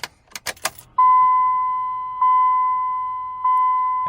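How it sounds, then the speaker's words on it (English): Ignition key cycled on a Cummins 5.9L common rail truck: keys jingle briefly, then a loud, steady electronic chime tone sounds and is re-triggered twice as the key is turned again, no talking. "we're gonna see how many cycles of the key it takes before you're ready to start the truck."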